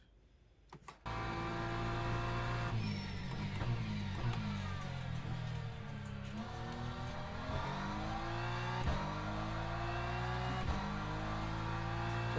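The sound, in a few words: race car driving in a racing simulator video game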